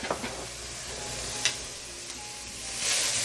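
Sweet onions and green onions sautéing in oil in a brazier, giving a continuous close hiss of frying with a few light scrapes as they are moved around, no voices.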